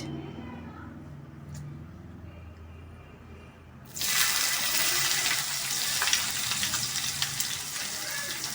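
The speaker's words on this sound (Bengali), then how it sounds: "তেলটা গরম হয়ে গেছে এর মধ্যে আমি এবার দিয়ে দেব কুচনো পেঁয়াজ" Chopped onion drops into hot oil, and after a quiet stretch with a voice talking, a sudden loud hiss bursts out and settles into a strong continuous sizzle of onion frying.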